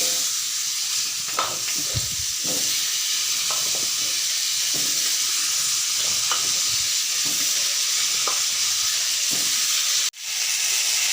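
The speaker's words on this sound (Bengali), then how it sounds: "আলুগুলো মজাই নিব" Potatoes sizzling in oil in a pan, a loud constant frying hiss broken by stirring scrapes and a sharp knock near the end; no voices.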